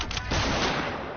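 Gunshot in a video game, heard as a short, dense burst of loud gunfire at close range with a sharp onset, filling the brief moment on its own.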